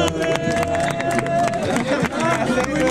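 A crowd at an outdoor market rap battle claps and cheers in a dense, close burst, with people shouting over the noise.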